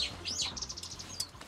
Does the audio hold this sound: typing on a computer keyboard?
no